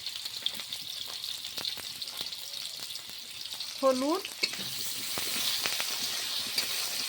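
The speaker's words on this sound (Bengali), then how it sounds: "তেল গরম হয়ে গেছে, এখন পেঁপেগুলো দিয়ে দিলাম।" Pieces of papaya and potato fry in hot oil with a steady, soft sizzle and hiss, broken by a few small clicks and a brief spoken word.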